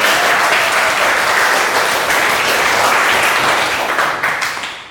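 Loud, steady applause from a classroom audience for a group's presentation during a teaching practice session, dense clapping sustained throughout and tapering slightly at the end.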